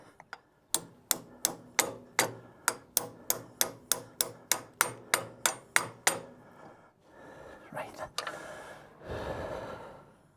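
Someone hammers a part on the hydraulic quadrant of a David Brown 990 tractor, about fifteen sharp metallic blows in a steady rhythm, close and loud, followed by heavy breathing and shuffling.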